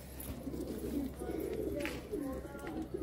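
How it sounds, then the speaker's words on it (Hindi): Bhure Bajre pigeons from Tonk, Rajasthan coo softly in low, rolling bursts at close range, under quiet background voices. "ये देखें आप कितने ज़बरदस्त कबूतर हैं"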